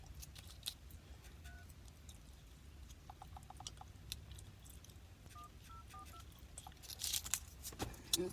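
Touch-tone dialing on a phone while placing a call: short bursts of steady paired tones in quick succession, faint and close, over a quiet room with low background hum and a few small clicks.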